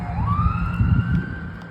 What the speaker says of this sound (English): Just let that ambulance go